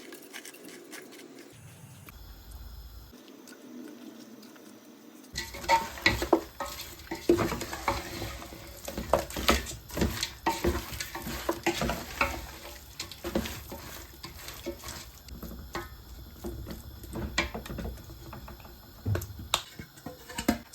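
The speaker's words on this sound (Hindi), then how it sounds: "देगचे में मैरिनेटेड चिकन को डाल देना है, फिर मसाला डाल के कुछ अनियन जो फ्राई करके रखे हैं वो डाल देने हैं" Marinated chicken, masala and fried onions being stirred together in a degchi pot for Hyderabadi chicken dum biryani: soft, quiet scraping and wet patter, sparse at first, then busy and continuous from about five seconds on, with no talking.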